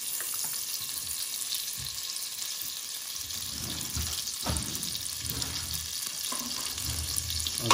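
Olive oil, regular cooking oil and a knob of butter melting and gently sizzling in a pan, a steady soft frying hiss with a few faint clinks and stirring sounds, no talking.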